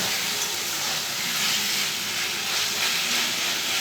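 Water poured into a hot pan of chilli chicken sauce sets off a loud, steady hiss and sizzle of steam that runs unbroken through the whole stretch, with no talking.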